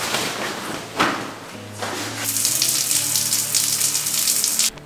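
Water from a hot shower in a free public shower block sprays steadily and loudly, with a couple of dull thumps near the start before the spray grows fuller and then cuts off.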